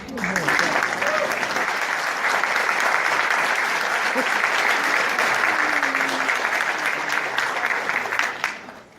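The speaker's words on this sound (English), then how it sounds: "Can you please applaud them with me?" An audience at a speech breaks into loud, continuous applause, a dense wash of clapping that holds for several seconds before tapering off at the end.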